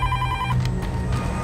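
A telephone rings with a bright electronic trill that stops partway, followed by faint knocks and movement in a quiet room.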